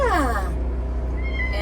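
Cat at a desert campsite in Arizona's Kofa wildlife refuge giving a single drawn-out meow that falls in pitch, close by, with a soft rustle and a faint chirp following.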